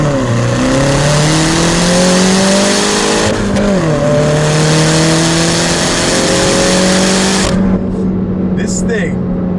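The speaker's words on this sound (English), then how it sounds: "This thing accelerates so much harder in sport mode" A 2014 Mini Cooper S in sport mode accelerates hard, its engine note climbing steadily, dipping at a gear change, then climbing again, loud and close throughout before cutting off near the end.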